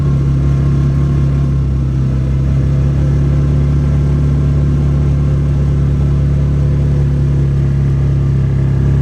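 A car engine accelerating into high gear, high range, with a steady loud drone and deep hum that holds throughout without pause.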